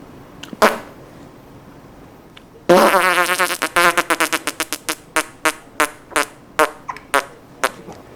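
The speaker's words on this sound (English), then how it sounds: "It's bad enough that it's a farting pink bunny" A pink bunny toy lets out a long buzzing fart, followed by a string of shorter, evenly spaced squeaky fart bursts that gradually space out, loud and alone.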